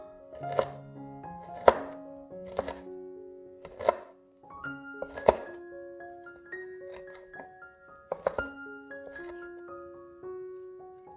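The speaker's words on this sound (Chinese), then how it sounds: "小辣椒切成小段放入碗里备用" Small chili peppers being chopped into short pieces for Thai basil tofu, a steady series of sharp knife thunks on a cutting board with uneven pauses between strokes, close and clear with no talking.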